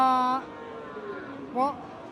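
A cow with her calf at a rural cattle market in Bangladesh, a near, fairly loud moo, with a second short lowing call after a pause over quiet background.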